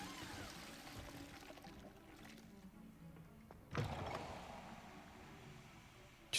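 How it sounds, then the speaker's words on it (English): Shower water in the Hogwarts Legacy video game pours and trickles softly at low level. A heavier splash or thunk cuts in partway through. "Just having a shower, don't mind me."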